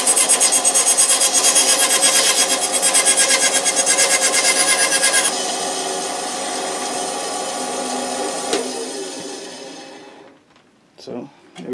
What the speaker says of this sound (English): So you can hear it's actually very quiet compared to the old bandsaw I had.